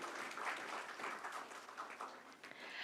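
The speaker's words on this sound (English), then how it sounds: "Can we hear a big round of applause for all of you out here?" Applause from the audience at the Interior Design Excellence Awards and Conference 2023 in Bangalore: fairly quiet, steady dense clapping that carries on throughout, with no speech over it.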